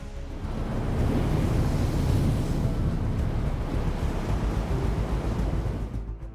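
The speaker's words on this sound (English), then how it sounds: "The Qiantang River tidal bore can create a lot of different wave shapes." The Qiantang River tidal bore in China surges upstream as a broad, steady roar of churning water and surf that holds loud for several seconds before easing slightly, with no voices.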